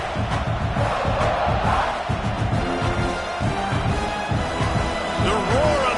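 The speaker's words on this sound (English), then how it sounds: "The roar of the crowd trying to fuel this defense to keep them pinned in their own end." A dense, steady stadium crowd roar fills a college football game between Georgia Tech and South Carolina, loud and continuous throughout with rising swells of cheering and no clear talk on top.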